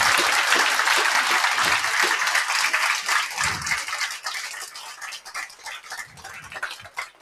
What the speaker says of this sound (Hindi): सर के लिए बस तालियां बजा दो आप